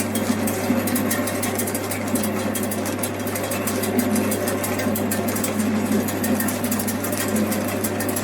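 A household 220V pellet mill, rated up to 120 kg of pellets per hour, runs with its die warming up. It gives a loud, steady mechanical hum and grinding drone with a constant low tone, close by and without pause.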